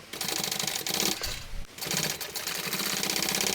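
Sewing machine stitching a seam in a shoulder bag lining, rapid rhythmic mechanical chatter in two close bursts separated by a short pause.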